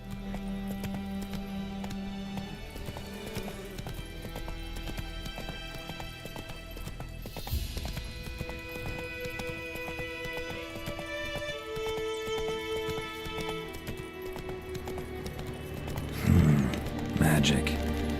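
Roach, the horse in The Witcher 3, gallops with steady rhythmic clip-clop hoofbeats close by under game music and ambient sound, with a brief neigh-like burst near the end; speech is faint or absent.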